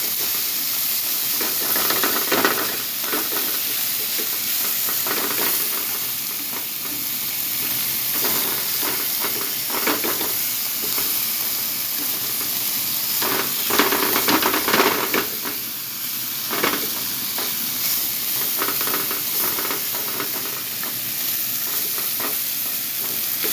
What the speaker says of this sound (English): we're going to cook our tortillas over open flame